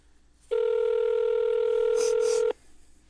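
During a call to a lawyer's office, a single steady telephone tone sounds loud and clear for about two seconds, then stops, with faint background noise before and after.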